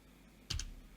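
A short burst of two quick computer keyboard key presses, close and fairly crisp, in an otherwise quiet room.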